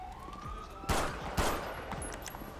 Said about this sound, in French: Vous entendez les sirènes et tout? Il y a le bruit des pistolets.